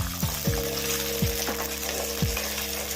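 Small shallots sautéing in hot oil for a curry leaf and garlic gravy, a steady crackling sizzle with a few soft clinks of a spatula stirring against the pan, close and without talk.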